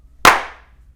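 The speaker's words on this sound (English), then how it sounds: "We'll clap one more time." A single sharp, close hand clap from a group clapping together in a recording room, one bright crack that rings out and fades quickly into near silence.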